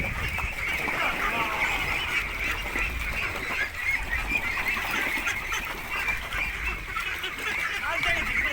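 Ducks at a backyard pond kept for eggs, a continuous overlapping chorus of quacking and honking calls, moderately close, with a voice talking faintly in places.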